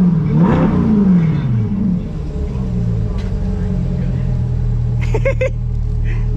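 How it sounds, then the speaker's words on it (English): A sports car engine, one of an M4, GT3 or C8 Corvette out for a cruise, revs once near the start, then settles into a steady idle rumble. Voices talk over it near the end. "Give it a little rev."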